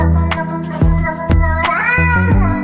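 A cat gives a series of low, strained, threatening yowls and growling meows, close by, with a few sharp clicks between them.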